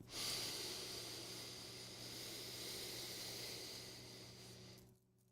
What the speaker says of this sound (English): Let's inhale through the nose.